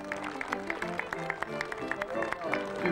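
Crowd applause for costumed guests at an outdoor fair with stalls and games, a moderate spread of clapping hands under a voice that keeps talking.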